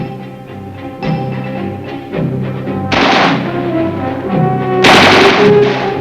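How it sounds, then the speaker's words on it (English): An M60 machine gun fires in sustained bursts during Army training in Vietnam, heavy and loud over a steady rumbling background, swelling twice into denser, harsher volleys. "The M60 machine gun is phased into the Vietnamese Army weapons system."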